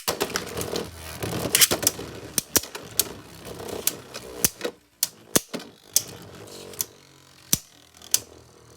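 Beyblade Burst spinning tops, including Poison Cobra, clash in a plastic stadium, with sharp clacking hits coming rapidly at first, then thinning out into sparse, separate knocks.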